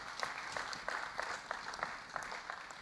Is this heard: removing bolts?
no